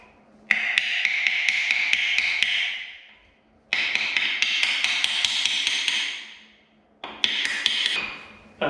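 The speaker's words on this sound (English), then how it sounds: "we're going to put in this wall plug and then hammer it in." Three long bursts of rapid, sharp hammer taps driving a wall plug into a tiled wall, each lasting a few seconds with short pauses between, close and fairly loud.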